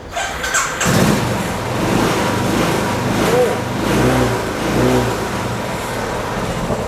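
A used second-hand motorcycle with self-start cranks and fires up close by, then idles and revs in a few rising-and-falling pulses, running steadily afterward.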